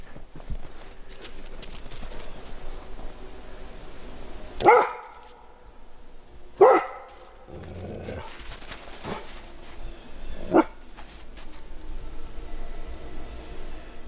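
Dog barking on an isolated forest trail: a few loud, sharp barks spaced several seconds apart over steady outdoor hiss, with no talking.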